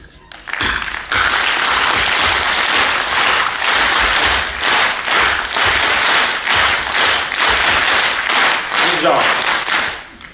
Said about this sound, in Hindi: अभी फिर से एक बार ताली बजानी है, लेकिन जैसी मैं बजाऊंगा उसका अनुसरण करना है